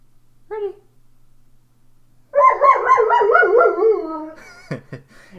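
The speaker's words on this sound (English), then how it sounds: "What are you barking at?" A dog gives a short whine, then a long wavering howl-like cry lasting about two seconds, close and fairly loud, ending with a couple of sharp yips.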